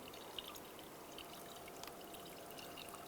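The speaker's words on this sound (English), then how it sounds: "Now you want to add the appropriate coolant." Coolant pours through a funnel into the reservoir of a Toyota Prius during an electric water pump replacement, a soft continuous trickle with faint drips, quiet and close.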